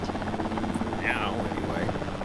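A helicopter in the dinosaur park game Jurassic World Evolution 2 drones with a steady, close rotor buzz and whine throughout, with faint talk mixed under it.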